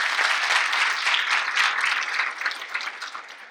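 An audience at a school district address breaks into sustained, dense applause, many hands clapping together before it gradually thins toward the end.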